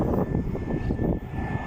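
A passenger airplane passes overhead at a plane-spotting site with a loud, continuous engine roar and rumble, steady for the whole moment.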